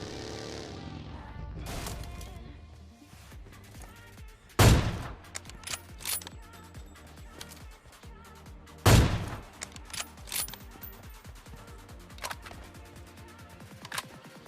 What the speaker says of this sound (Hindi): लेफ्ट में ना फायरिंग का साउंड आता है और बंदे भी दिख जाते हैं